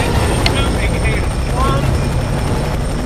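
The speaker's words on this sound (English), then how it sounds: "You gotta run for this helicopter." A helicopter's rotor thrums loudly and continuously in the video game F.E.A.R. 3, with brief voice-like sounds mixed in over the steady engine drone.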